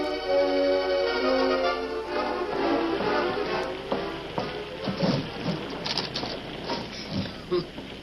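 A steady rain sound effect in an old radio western drama, a dense hiss with scattered creaks and patters, fairly loud and continuous.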